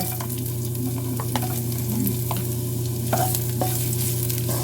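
Ginger sautéing for chicken curry sizzles steadily in a hot pan, with a spoon scraping and stirring at intervals over the constant frying hiss, close and moderately loud.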